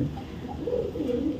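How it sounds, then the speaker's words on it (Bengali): A female tiger racer pigeon coos close by, a soft low rolling murmur repeating in gentle wavering phrases over a faint room hum. "এটা একটা ফিমেল কবুতর"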